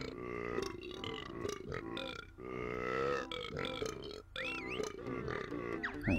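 A cartoon character in the video game Banjo-Tooie lets out a series of loud, drawn-out burps, several in a row with short gaps, mixed with a grunting voice and game sounds.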